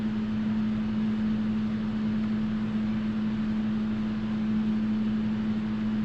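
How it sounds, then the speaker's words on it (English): A constant mechanical hum and whooshing airflow, like a running space heater, steady and unchanging throughout with no talking. "I got the heater on today"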